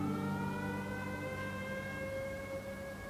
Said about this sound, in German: Sind das Sirenen, ne?